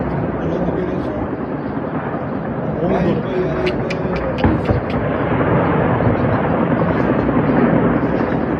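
A drone flies over a town in Uzbekistan during a massive drone attack, a steady buzzing engine drone held at a loud level throughout, with excited voices talking over it and a brief sharp crack partway through.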